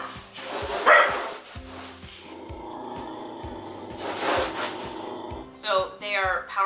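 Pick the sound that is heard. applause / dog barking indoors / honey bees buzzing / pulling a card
dog barking indoors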